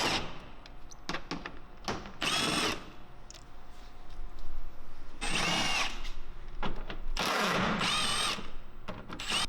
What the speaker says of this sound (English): We're going to start the install by removing the 4 10mm bolts